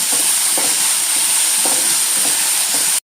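Egg and tapioca (kappa) sautéing in a hot pan with a pinch of salt, a steady loud sizzle with a few soft stirring scrapes, close up and continuous until it cuts off.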